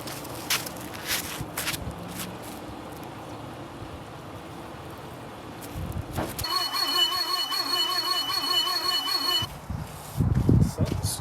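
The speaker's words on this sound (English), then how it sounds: "Something's squealing in there, boy." A 1976 Porsche 914 with a VW Type 4 engine, started for the first time in 30 years after sitting as a barn find, lets out a sustained high squeal for about three seconds amid clanks and shuffling noises.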